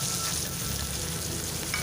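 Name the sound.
vegetables frying in oil with onion and dried chilli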